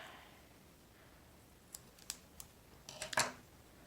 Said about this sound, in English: I'm going to start by cutting out kind of a triangle shape